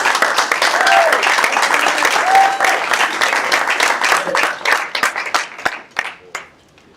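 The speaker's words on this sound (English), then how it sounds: "let's give a great round of applause for Property Brokers" An auction audience breaks into a round of applause, loud and dense at first, then thinning into scattered individual claps that die away near the end.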